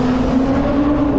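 A car drives past on a city road near EDSA and C5 during a Sunday bike ride, its steady engine hum rising slightly toward the end, with light traffic around.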